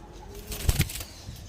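A Malbahi pigeon flaps its wings in two quick, close bursts over faint background noise.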